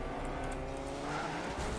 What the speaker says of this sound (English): There's a car here.